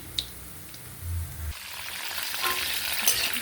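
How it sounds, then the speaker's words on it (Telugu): Mustard seeds, cumin and coriander seeds fry in hot oil. A low rumble gives way to a bright, crackling sizzle with faint popping that grows fuller and stays close and steady, with no talk. "ఆవాలు వేగిన తర్వాత జీలకర్ర ధనియాలు వేసాను"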